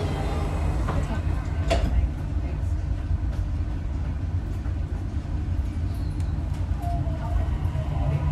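A Dubai Metro train stands at a platform as its doors close, a steady rumble of the carriage with a short door chime near the start and an automated announcement voice speaking over it.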